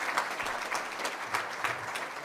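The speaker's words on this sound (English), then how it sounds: "Another round of applause, please" Applause from an audience, a soft, steady patter of many hands clapping, heard at a distance with a few louder swells.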